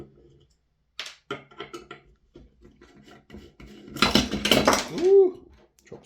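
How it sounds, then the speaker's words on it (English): A screwdriver clatters as it is dropped while a Maruyama SCW-9 gas blowback SMG is being taken apart, one sharp metallic rattle after several small clicks and rubbing sounds from handling the parts. "drop the screwdriver while you do it"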